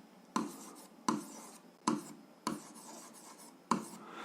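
Pen or chalk writing out an algebra exercise, y and the x-axis, in short scratchy strokes: five separate bursts spaced about a second apart, close and fairly quiet, with no speech.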